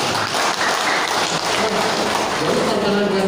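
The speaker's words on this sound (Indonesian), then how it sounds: "Tepuk tangan untuk tim semuanya." Audience applause fills a seminar hall at an MPR RI socialization event on Pancasila, a steady dense patter of many hands clapping throughout, loud and sustained with no pauses.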